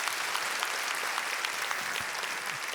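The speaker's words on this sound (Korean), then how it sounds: "감사의 박수 하겠습니다." A church congregation at a Sunday worship service claps together in thanks, a dense, steady wash of applause that fills the whole clip without letting up.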